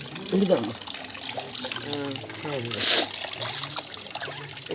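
Rice being washed by hand in a bucket of water, with sloshing and trickling water sounds at close range under a woman's speech.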